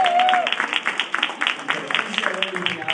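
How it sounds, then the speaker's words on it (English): Audience giving a senator a round of applause, brief scattered clapping following a man's speech, with his voice carrying over the claps. "I think we should give the senator another round of applause."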